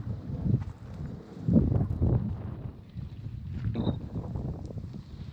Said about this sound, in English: The wind is pretty strong out here today.